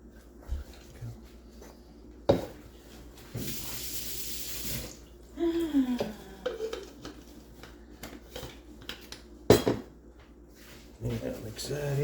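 Tap water runs briefly into a container while mixing an organic tea for outdoor cannabis plants, with intermittent clunks and handling knocks around it.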